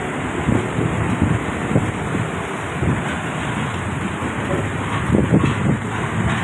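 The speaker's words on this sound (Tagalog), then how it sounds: "Yan, malakas ang hangin, oh. Gumagalaw yung payong. Malakas ang hangin." Strong gusty wind buffets an umbrella along the C-2 Road in Tondo, Manila, a steady broadband roar with louder gusts and rumbling microphone buffeting throughout, no talking.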